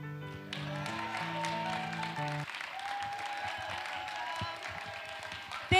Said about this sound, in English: Can we give another round of applause to our testimony givers and to all our graduates?